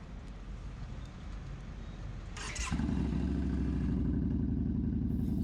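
Cruiser motorcycle pulling out of a gas station: a steady low engine idle and rumble that swells louder and heavier partway through as the bike gets under way, close by, with a brief clatter just before.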